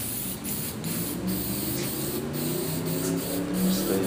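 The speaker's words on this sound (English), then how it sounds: "you can spray any color you want to" Steady, close hiss of spray paint coating a wooden pedestal being given a faux stone finish, with several brief pauses between passes.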